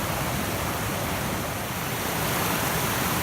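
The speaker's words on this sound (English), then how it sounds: "We're walking up and down the river looking for a place to cross." River water rushes steadily along a trail river crossing, a loud, continuous broadband roar that fills the whole stretch with no voices.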